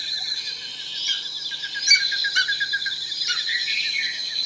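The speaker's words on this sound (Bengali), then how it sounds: "কেমন করে ডাকছে পাখি" A bird calls in a steady series of bright, chirping trills, close and fairly loud, with no talking over it.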